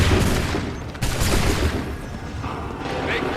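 A dense, loud musket volley from the video game Assassin's Creed 3 rolls on as sustained crackling gunfire and rumble, with voices shouting beneath the din.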